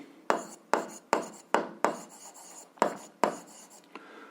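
Pen strokes scratch across paper in a physics lesson, a series of about eight distinct rasping strokes in an even rhythm, close and fairly loud with no voice over them.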